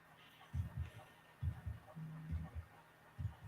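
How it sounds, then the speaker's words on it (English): A faint, muffled video game heartbeat thumps in steady double pulses, quiet and low in the background of gameplay. "Literally, you can hear it in the background heartbeat"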